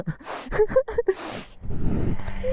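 Heavy, gasping breaths from a person winded after a short uphill climb toward a windfarm view deck: a quick run of sharp breaths, then a longer rough exhale close to the mic.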